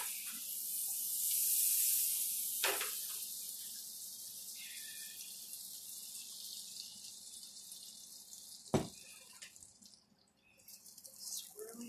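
Butter sizzles in a greasy frying pan, a soft, steady hiss that swells early on and then settles, broken by a couple of brief sharp clicks.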